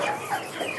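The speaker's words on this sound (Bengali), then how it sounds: "এই যে আমার পাহাড়ি মোরগ, অনেক অনেক অ্যাগ্রেসিভ।" A native hill rooster, an aggressive farm bird, clucks in short close rapid notes, loud and alone with no talk over it.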